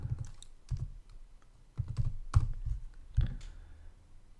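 An authentication code is typed on a computer keyboard in short bursts of key clicks, close and fairly loud, with brief pauses between groups.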